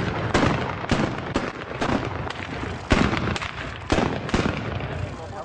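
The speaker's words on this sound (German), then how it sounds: "Wir werden 2 Böllerschüsse machen, die sollen für Sie auch symbolisch der Auftakt sein für eine gute Bundestagswahl." Ceremonial salute firecracker shots (Böllerschüsse) go off at a German federal election campaign event, several sharp loud bangs in an irregular series over crowd noise and murmuring voices.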